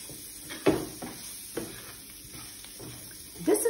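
Capsicum stirred in oil in a pan, heard as a few scattered scrapes and knocks of a spoon over a faint, low sizzle, quiet and sparse.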